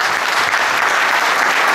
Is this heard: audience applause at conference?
yes